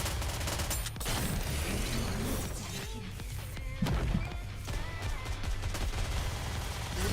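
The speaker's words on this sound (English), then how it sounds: "Oh god, that's a lot of bombs." Many bombs going off in the mobile shooter Nikke, a dense continuous barrage of overlapping blasts and crackling impacts layered over loud game music, with no pause across the stretch.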